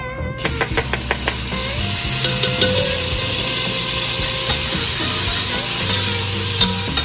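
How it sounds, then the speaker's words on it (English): Minced garlic hits melted butter and olive oil in a hot pan, bursting into a loud, steady sizzle with a few utensil knocks and stirring clatters over it, for a Cajun Italian rice dish; no one speaks. "now that our butter has melted along with the olive oil, we're going to go ahead and add 1 tablespoon of minced garlic"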